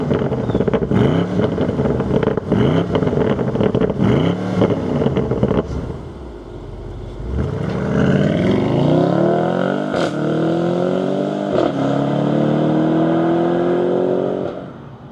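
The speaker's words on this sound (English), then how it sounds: "let's fire it up and hear what the heck it sounds like" A BMW M850i with a twin-turbocharged engine is heard revving loudly in several sharp blips, then goes quiet briefly before firing up and settling into a strong, rising idle with a few more throttle stabs, all close and with no talk.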